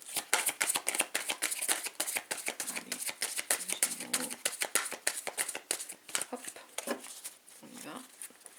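A tarot deck being shuffled and cut, with a quick run of crisp, close card flicks and riffles, loud at first and thinning out toward the end.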